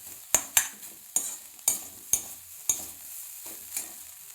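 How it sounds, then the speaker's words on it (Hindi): Whole spices sizzle in mustard oil in a pan, a steady close hiss broken by several sharp clacks of a spoon against metal at uneven intervals, with no talk. "अब मैंने फिर से थोड़ा सा इसमें सरसों का तेल डाला और ये खड़े मसाले डाल दिए।"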